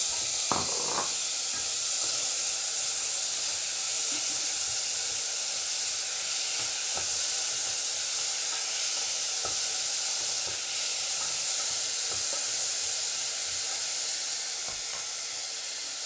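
Onion and tomato sizzling in a pan over low heat for a quinoa dish, a steady loud hiss running throughout with faint scattered ticks of stirring, no voices.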